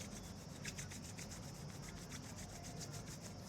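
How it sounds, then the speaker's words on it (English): Two hands rubbing briskly together during a sound healing session, a soft, steady rhythmic swishing of skin on skin, close and quiet, continuous throughout. "And again, bringing your hands back, rubbing them together."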